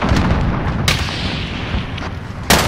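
Gunfire in Call of Duty: Warzone, a steady rumble of in-game shots and blasts with sharp, loud bursts near the start and again at the end.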